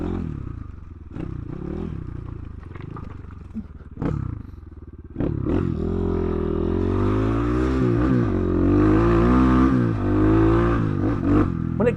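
A Kayo dirt bike engine idles and pulls at low speed while crawling through a rocky section, its steady near rumble rising and falling with throttle blips and getting louder and busier in the second half, with occasional clatter from the terrain.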